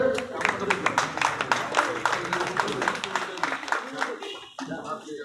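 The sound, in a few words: audience clapping for Nirmal Ghosh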